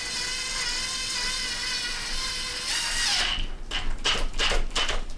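Power driver running a screw in while a turbo is installed on a BMW B58 engine: a steady high whine for about three seconds, then a few short ratcheting bursts, close and loud.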